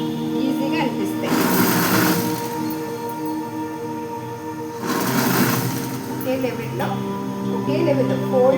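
Sewing machine stitching a petticoat, a steady mechanical whir running throughout with two louder bursts of fast stitching, while someone talks over it.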